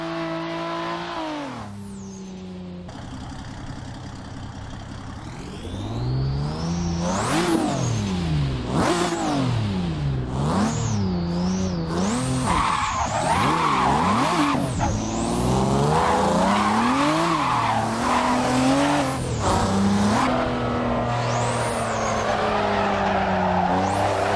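Loud racing car engine in the game Assetto Corsa revving up and down through gear changes, with rising and falling whines and tire squeals, continuous and close.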